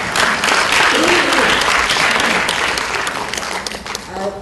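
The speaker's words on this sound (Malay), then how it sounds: "NCWO punya orang tolong tepuk tangan." Loud, dense audience applause fills a gallery opening ceremony at a university, with scattered voices and cheers mixed into the clapping throughout.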